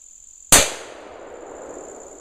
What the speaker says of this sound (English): that shot was actually from about 35 yards away